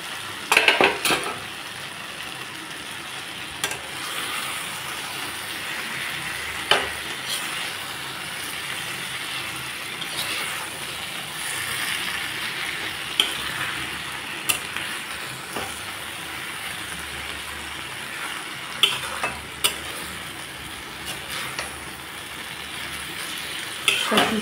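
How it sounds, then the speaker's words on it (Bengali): Whole fish fry and sizzle in a pan while a utensil stirs and scrapes against the metal, a steady crackling hiss punctuated by clinks, with no voices. "এখন মাছগুলো দিয়ে দিই।"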